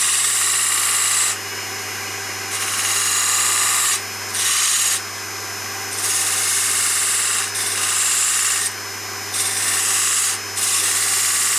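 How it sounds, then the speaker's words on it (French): A tool scrapes a small groove along marked lines in a wooden birdhouse for a tit, giving rough rasping strokes in bursts of one to two seconds with short pauses between them, close and fairly loud. "je vais faire une toute petite rainure sur les deux traits là pour pouvoir passer mon câble"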